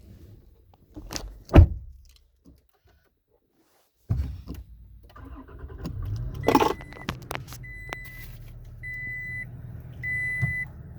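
A car with push-button ignition starts up after a quiet pause: the engine turns over and settles into a low idle, with repeated short electronic beeps and chimes above the rumble and a few handling clatters nearby.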